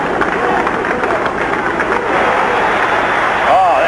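A large stadium crowd at the 1984 Olympic women's marathon roars and applauds steadily for Joan Benoit, a dense, continuous cheer filling the whole stretch without pause.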